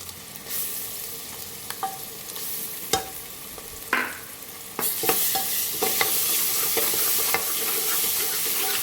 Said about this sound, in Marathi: आता हे वाटण चांगलं तेल शिटेपर्यंत तेलामध्ये फ्राय करून घेऊया